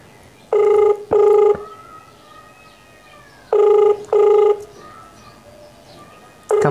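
A phone call ringtone, repeated paired electronic beeping tones, two bursts, a pause, two more bursts and the start of another, ringing loudly and alone.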